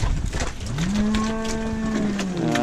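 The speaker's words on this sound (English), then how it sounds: "Alright, so here we have our heifers. Here we have our heifers." Young heifers on a dairy farm let out one long, close moo that holds steady before trailing off, with faint farmyard noise around it.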